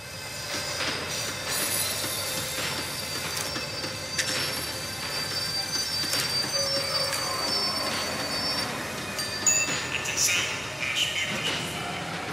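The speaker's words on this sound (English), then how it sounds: "The tram was slowing down, and I'd only just gotten on board." A tram slowing down in Max Payne 3, with shrill squeals from its metal wheels over a constant rumble of rolling, and sharp high screeches that rise and fade throughout at close range.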